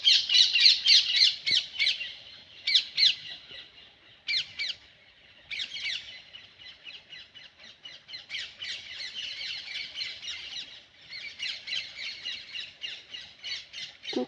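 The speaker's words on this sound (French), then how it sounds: "mais c'est le cri des perruches" Parakeets give loud, harsh squawking calls in repeated rapid bursts, sometimes several birds at once, with short pauses between volleys and no talking.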